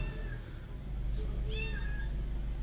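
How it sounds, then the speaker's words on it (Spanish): A cat meows twice, thin and moderately distant, over a constant low rumble of traffic or engine noise. "Ahí se escucha un gato."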